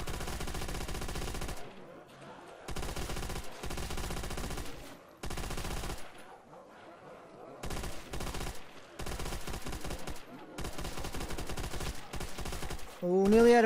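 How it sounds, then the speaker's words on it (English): Sustained bursts of machine gun fire from the Custom Zombies video game, loud and close, come in repeated long volleys with short gaps between them and no talking. "Okay, switching to the MG."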